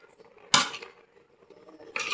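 A utensil scrapes twice against a pan while stir-frying Chinese broccoli with pork ribs, short metallic scrapes separated by quiet sizzling.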